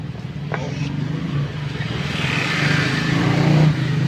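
A Yamaha Mio J scooter engine runs after its ECU was replaced, idling with a steady low putter that builds slightly in a mild rev near the end, with some clattery mechanical noise and no talk.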